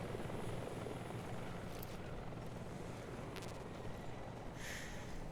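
In Metal Gear Solid Delta, a helicopter's rotor produces a steady, dense thrumming roar that fills the whole stretch at an even level, close and sustained with no talking, as brief faint tones flicker above it.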